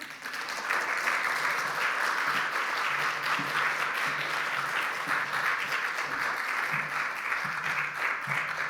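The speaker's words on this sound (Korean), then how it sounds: "임종환 목사님 나오실 때 큰 감사와 축복의 박수 하겠습니다" Sustained applause from a church congregation greeting a pastor, a dense steady wash of many hands clapping together that holds at an even level throughout.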